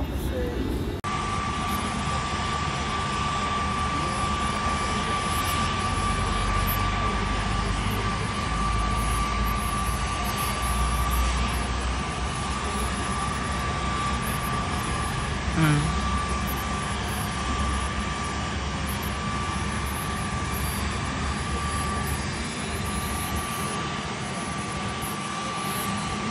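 Steady drone of an arriving helicopter with a constant whine, holding level throughout, with faint voices in the background.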